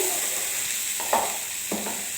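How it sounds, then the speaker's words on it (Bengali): Papaya curry with chickpea fritters stir-fried in a pan, a steady soft sizzle broken by two brief scraping strokes of a spoon against the pan. "বড়াগুলোকে দিয়ে ভালো করে কষিয়ে নিয়েছি"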